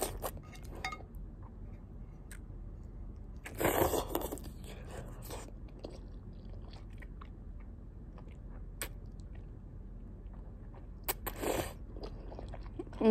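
Someone eats ramen with egg at close range, with soft wet chewing and a couple of louder crunchy bites, plus faint clinks.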